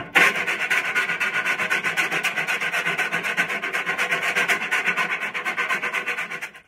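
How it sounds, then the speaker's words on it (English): A metal file rasps steadily back and forth across the drilled edges of a Sabian Ozone cymbal in quick, regular strokes, close and loud, with no pauses or voices. "I'm going to take this file and smooth out the edges."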